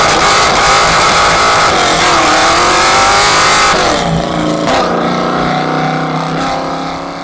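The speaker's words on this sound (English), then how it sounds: "this is my '66 Mustang" A 1966 Ford Mustang pro-touring car, Trans-Am inspired and built for autocross, revs loudly nearby, its engine pitch climbing and then dropping off as it drives away and fades.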